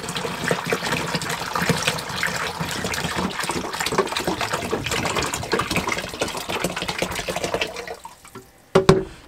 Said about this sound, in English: we want to put hot water down in our tank.